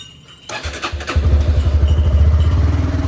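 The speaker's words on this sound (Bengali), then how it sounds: "আর বাইকটা একটু কোল্ড স্টার্ট করে নেই" A cold motorcycle engine is cranked and catches after half a second, then settles into a loud, close, rapid, throbbing idle with a pulsing beat and no talk.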